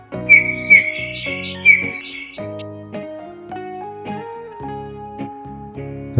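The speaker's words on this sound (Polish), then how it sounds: "Gil." Bullfinch calls, a few soft clear whistled notes in the first two seconds, heard over a continuous musical backing.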